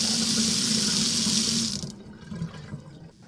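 Water gushes steadily from a faucet after its cartridge was replaced, a loud close hiss that stops abruptly partway through, leaving a few faint drips and handling sounds.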